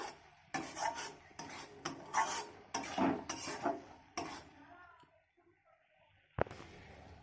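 Spice paste is stirred in a pan with a metal spoon, giving a quick run of scraping, clinking strokes that stop after a few seconds, followed by quiet and one last sharp knock.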